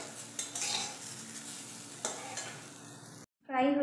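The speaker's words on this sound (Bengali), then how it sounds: "এবার হালকা করে ফ্রাই করে নেব, সিদ্ধ হয়ে আছে তাই বেশি ফ্রাই করার দরকার নেই।" Boiled Maggi noodles fry lightly in a pan with a soft sizzle and a few scraping, clinking stirs of a utensil. The sound stops briefly, then a short tonal sound comes in at the end.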